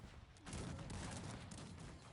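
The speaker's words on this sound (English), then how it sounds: "And there goes the cannons" Cannon volley in the Cossacks 3 strategy game, a quiet lead-in and then a sudden dense burst of overlapping booms and crackling shots that rumbles on across the battlefield.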